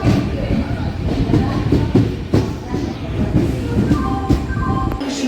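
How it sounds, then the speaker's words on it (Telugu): Station ambience at Mangaluru Junction railway station, a steady broadband rumble of a train and platform activity with clattering and scattered voices, continuous and fairly loud throughout. "మంగళూరు జంక్షన్ రైల్వే స్టేషన్కి స్వాగతం సుస్వాగతం"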